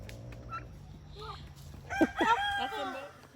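Turkeys being moved give a short run of nearby squawking, yelping calls that rise into a louder burst of overlapping cries over a low background murmur.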